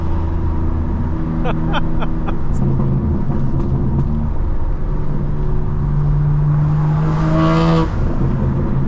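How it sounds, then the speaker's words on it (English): A 2024 BMW M4 Competition engine rumbles and revs close by while driving, with crackling exhaust burbles and pops, while people talk briefly over it. "Oh yeah, keep the burbles on. It sounds great."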